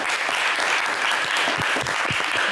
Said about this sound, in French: on vous applaudit quand même très fort